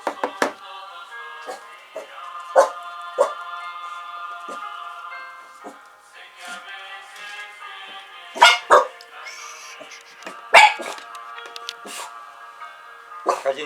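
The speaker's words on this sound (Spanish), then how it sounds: "También aquí están mis perros." Several dogs bark indoors in sharp, loud repeated bursts, some close and some fainter, over a steady background with snatches of a person talking.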